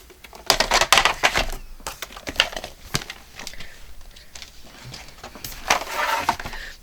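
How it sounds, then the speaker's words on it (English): Paper being punched on an envelope punch board for a handmade flip-and-fold journal: close, crisp crinkling and sharp clicking bursts with paper rustle, louder near the start and again toward the end. "now I want to use my envelope punch board"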